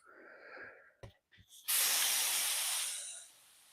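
A spray can coating a steel CNC machine part, heard as a few short handling clicks and taps followed by a loud, close, continuous hiss lasting over a second before it tapers off.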